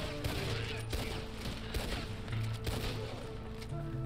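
Gunfire in the Red Dead Online western video game, a dense stretch of overlapping shots with sharp cracks scattered across a steady rumble of game sound and music, no talk.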